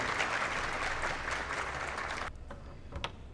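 Fairly faint applause from a lecture audience greeting a guest speaker at a university talk, fading out after about two seconds and followed by a few scattered claps.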